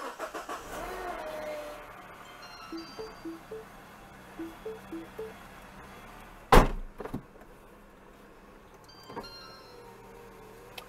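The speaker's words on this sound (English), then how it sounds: "Okay, let's go ahead and start up the car." Mini Cooper started up with the engine cranking briefly, preceded by chimes and electronic beeps inside the car, then a quiet idle; faint and close.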